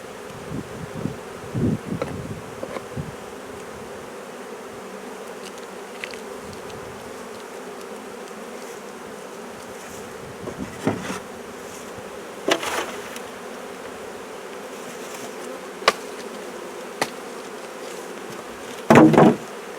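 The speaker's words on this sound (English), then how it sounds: "flying bees are going back to the box." Honey bees from a backyard hive drone in a low, continuous buzz with a few sharper close passes and faint rustling, and no voices.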